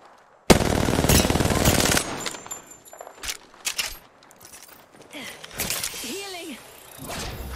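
A loud burst of rapid automatic fire from a Prowler SMG in the video game Apex Legends opens sharply and rattles on for over a second, then scattered shots, impacts and whooshes follow while a character's voice speaks over the action.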